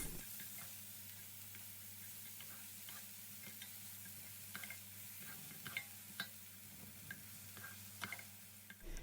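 Steady soft sizzling of onions, peppers and meat frying in a pan, with scattered light taps and scrapes of stirring throughout.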